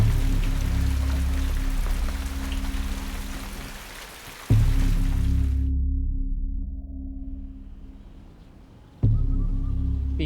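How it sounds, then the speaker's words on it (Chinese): Steady rain hiss and low rushing noise fill the scene as rain begins, broken by two abrupt cuts where the wash drops and returns, with no voices. "下雨了，"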